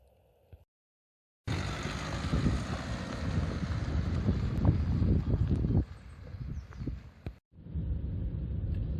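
A 2009 Ford Focus Estate Mark II with the 1.6 TDCi diesel drives along Northamptonshire country lanes, a steady broadband road and wind roar with a brief gap of near silence early on and a short dropout near the end.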